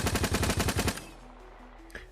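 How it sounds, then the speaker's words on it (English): Dual-wielded SMGs firing in a video game under development, a fast rhythmic burst of about a dozen loud, close gunshots that stops abruptly, followed by faint game tones and a small thud. "you can hear both of the SMGs when I shoot like that"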